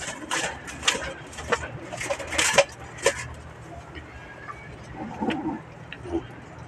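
Pigeons in a loft give soft, low cooing calls amid scattered wing flutters and light wooden knocks, fairly close and quiet.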